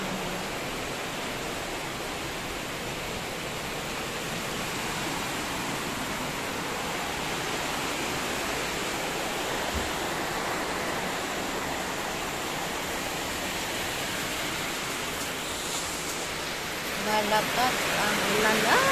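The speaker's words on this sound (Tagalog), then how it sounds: "Malakas ang ulan." Heavy rain pours down in a dense, unbroken roar that fills the whole scene, with a brief clatter near the end.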